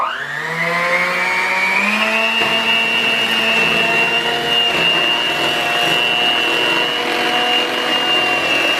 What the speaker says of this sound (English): Now for the noisy part of blending.